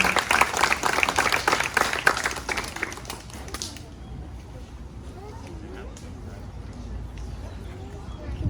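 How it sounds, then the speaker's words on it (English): An audience claps at a sixth grade graduation ceremony, dense applause for a few seconds that fades to a quieter hall with murmuring voices. "Please give these 2 young ladies a big round of applause."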